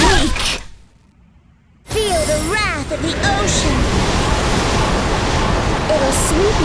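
An ocean-wave attack in Seven Knights crashes in as a loud, rushing surge of water noise that sweeps on after a brief quiet, with a character's voice speaking over it.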